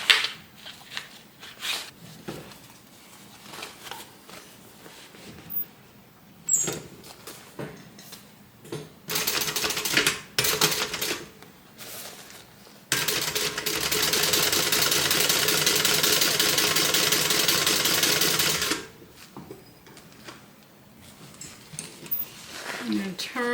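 A sewing machine stitches a bag seam, with short bursts of stitching, one steady run lasting several seconds, and pauses between them, while a person talks throughout.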